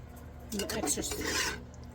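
A metal spatula scrapes and rasps across a pan of beef and broccoli being stir-fried at home, a close, gritty scratching burst lasting about a second with no talking.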